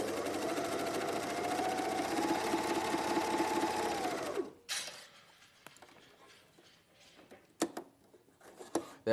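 A two-needle cover stitch sewing machine runs steadily and loud for about four and a half seconds, then stops, followed by quieter handling clicks and clinks.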